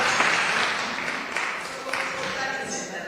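An audience at an anti-human-trafficking summit applauding, a dense, steady wash of clapping from many hands that holds throughout at an even, moderately loud level.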